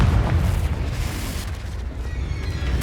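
Confringo blast spell explosion in Hogwarts Legacy, a loud booming burst with sustained rumbling over continuous game noise.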